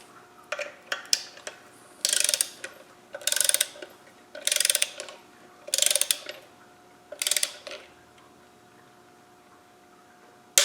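Ratchet wrench tightening the clutch bolts in a diagonal pattern to torque on a Land Rover 200Tdi engine: about six quick bursts of dense ratcheting clicks with short pauses between, close and fairly loud.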